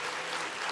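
Steady applause from a church congregation for the senior choir, a dense even patter of many hands clapping without a break, fairly close and filling the room.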